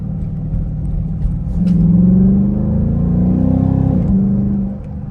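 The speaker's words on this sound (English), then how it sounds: "I'm gonna kick this baby in first gear, put it in second." A Dodge Durango pulls away from a stop, its engine note climbing under load through first gear, dipping briefly at the shift into second and rising again, a steady near rumble with no voices.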